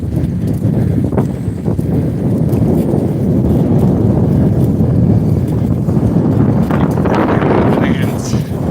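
Strong wind roaring into a microphone during a bicycle ride around an old golf course, a loud, sustained low-pitched buffeting that barely lets up, with faint higher rustles near the end.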